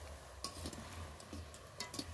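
Semolina kalo jam sweets fry in oil over a low flame, giving a faint steady sizzle with a few soft clicks of stirring, quiet and without voices.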